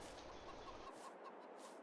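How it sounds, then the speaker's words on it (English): Chickens cluck softly at a distance in the video game Goldcrest Valley over a steady outdoor background, a few short calls repeating loosely across the clip. "See the chickens running around over here."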